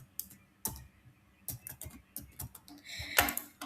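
Computer keyboard keys tapped in irregular bursts while entering text into an Excel spreadsheet, close and fairly crisp, with a denser cluster of clicks near the end and no talking.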